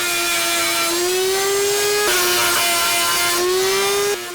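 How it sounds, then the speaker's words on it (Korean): A power saw cuts wood to shape a liquor barrel, giving a loud, steady whine with a slight pitch dip and rise around two seconds and again near the end, heard alone without talk. "규덕 씨가 술통을 재단하면 시동생인 남일 씨가 섬세한 공정을 맡는다."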